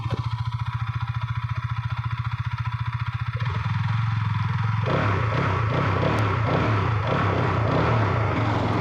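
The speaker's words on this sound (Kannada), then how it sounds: "ನೀವು ಎಂಜಿನ್ ಸೌಂಡ್ ಕೇಳ್ಬೋದು," A Hero Karizma XMR motorcycle engine idles with a steady, rapid throb, then revs up into a louder, rougher roar that holds to the end.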